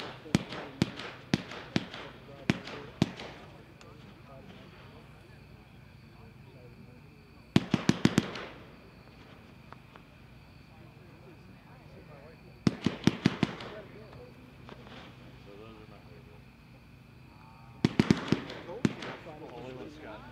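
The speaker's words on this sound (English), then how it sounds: "Number eight is Monster Bash by Epic, pack 2-1, 32 shots." An Epic Monster Bash 32-shot fireworks cake firing at a product demo, tight volleys of sharp pops in bursts about five seconds apart, with a low crowd murmur between them.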